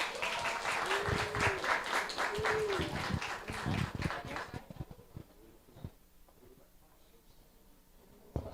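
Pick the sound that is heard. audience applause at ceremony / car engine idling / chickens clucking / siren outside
audience applause at ceremony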